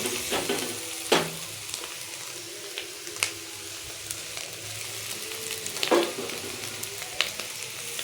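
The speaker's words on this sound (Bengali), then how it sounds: "এই সেদ্ধ করা চাউমিনটা দেখো দিয়ে দেবো আস্তে আস্তে" Boiled chowmein goes into a pan with fried potato and egg and crackles in hot oil, a steady close sizzle broken by sharp clacks from stirring and tossing; no voices.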